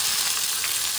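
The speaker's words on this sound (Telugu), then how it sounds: "ఆయిల్ కాగిందండి, అందులో ఆవాలు వేస్తున్నాను" Mustard seeds and dry red chillies tempering in hot oil, a loud, close, continuous sizzle with bright crackling and no pause.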